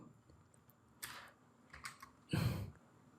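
Keys clatter on a computer keyboard during Excel formula entry, a few quiet scattered taps and a short burst of clicks near the end, with no talk.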